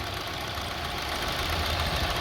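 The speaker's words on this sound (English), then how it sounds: "Very bad rough idling." A Honda CR-V engine idles roughly with a steady, uneven knocking rumble, close and continuous, with no voices over it.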